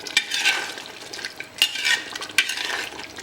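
Mutton and masala fry together in a pan with a bright, close sizzle. Rhythmic scraping strokes of a spoon stir through it, and there is no talk.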